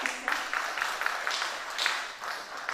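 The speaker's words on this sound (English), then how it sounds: "Let's have a better clap for our guest speaker." An audience applauds a guest speaker in a theatre, a steady patter of many hands clapping at moderate distance that continues without pause.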